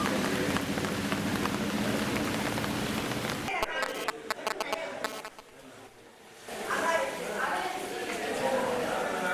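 Pouring rain hisses steadily at a polling station during an election, a dense, loud wash that drops briefly to a quieter, patchier patter midway before returning at full strength.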